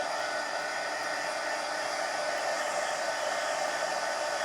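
A hair dryer blows on wet paint on an adult colouring book page, giving a steady, even whooshing hiss that stays level and close throughout, with no talking.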